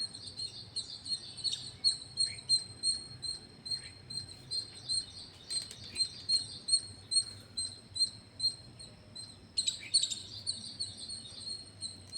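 Birds chirp repeatedly after rain in short, high bursts against a quiet background, with a steady, gentle rhythm.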